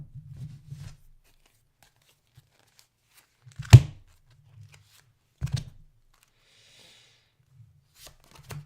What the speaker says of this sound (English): Just one more shuffle here.